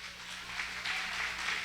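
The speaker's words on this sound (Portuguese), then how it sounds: "Aplauda bem forte ao Senhor" A church congregation applauds loudly at a preacher's urging, a steady, dense wash of clapping from many hands that holds evenly for under two seconds.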